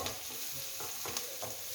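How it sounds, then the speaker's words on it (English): Food fries in a pan alongside corned beef, giving a faint, continuous sizzle broken by a few soft stirring scrapes, with no one talking. "Ooh, it is frying beautifully."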